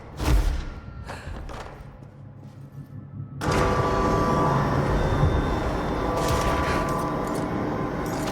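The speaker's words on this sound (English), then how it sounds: "Can't forget I got the shotgun." Video game Control: a heavy shotgun blast and thuds up front, then a dense, sustained roar of gunfire and explosions filling the rest, loud and close.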